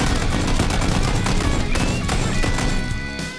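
Gunfire in the PUBG battle royale game, a dense, loud burst of rapid shots and impacts filling the whole moment, with no talking and a slight fade at the end.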